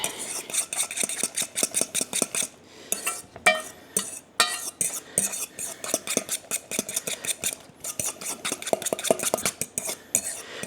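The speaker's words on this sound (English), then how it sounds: "Mix it up real good." A utensil stirs a whole egg into a spinach and Parmesan stuffing mixture in a bowl, making rapid clinks and scrapes in steady bursts, close and fairly clear, with a few brief pauses.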